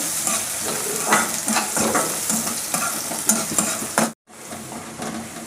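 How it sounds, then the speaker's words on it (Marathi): Onion being sautéed in a pan until pinkish: a continuous close sizzle with repeated stirring scrapes, briefly cut off near the end before the frying resumes. "छान असा गुलाबी रंगावर कांदा मी छान असा परतून घेणार आहे"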